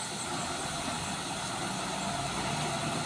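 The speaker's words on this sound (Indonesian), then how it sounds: "Truk ini sudah melaju bosku." A Colt Diesel truck pulls away with a steady, broad engine rumble that holds at a constant level for the whole stretch, with no voices over it.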